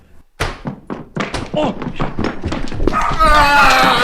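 Dogs bark loudly and close by in a household, in a quick run of sharp repeated barks that build into a dense, noisy burst at the end.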